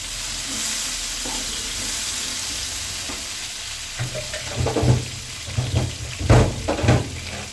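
Tomato and green chilli go into a hot frying pan for a garlic chicken curry, with a continuous sizzle at first, then louder bursts of stirring and scraping in the second half.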